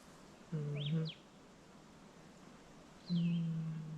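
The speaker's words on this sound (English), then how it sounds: "Birds." Two brief bird calls, each a quick rising-and-falling chirp, ring out apart from each other over a quiet outdoor hiss at an early-spring campsite by the water at sunrise.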